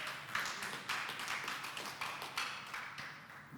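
Worshippers at an online Easter service clap in an even, repeating rhythm, the sharp hand claps sounding fairly faint and roomy with no talking over them.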